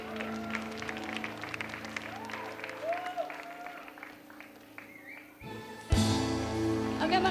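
An audience in a television studio bursts into applause after a singing performance, a sudden rush of clapping near the end following quieter stretches with a speaking voice.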